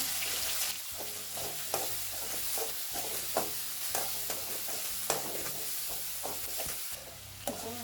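Curry leaves and onions sautéing in hot oil for an anchovy fish curry, a loud continuous sizzle with frequent spoon-stirring clatters and scrapes, close up, no talking.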